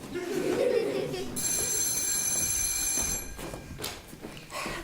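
A home landline telephone rings, a bright sustained electronic trill that comes in after a moment of muffled room noise and then stops, followed by brief voices and soft laughter.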